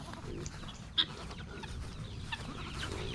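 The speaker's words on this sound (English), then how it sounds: "The guineas." On a homestead at feeding time, guinea fowl give faint scattered calls and clucks among other poultry, with one sharper cry standing out against a low background hum.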